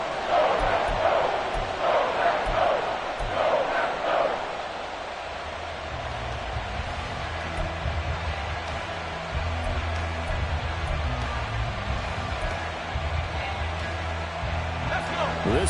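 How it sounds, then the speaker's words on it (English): Stadium crowd in the Madden 24 football video game, a broad sustained roar and cheer that swells early then settles into a steady wash, with a commentator's voice over it. "This crowd doing all they can."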